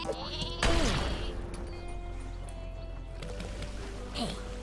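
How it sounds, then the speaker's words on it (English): Sheep bleat from a sheep launcher weapon in the video game Worms WMD, a wavering bleat early on and another near the end, set over game sounds and tones. "He's got a sheep launcher! I was expecting that to go further and launch more sheep."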